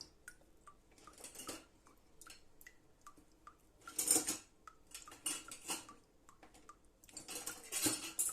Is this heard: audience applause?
no